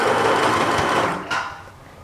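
A sewing machine runs steadily, stitching the center back seam of a doll gown, a close whirring run that slows and fades out near the end.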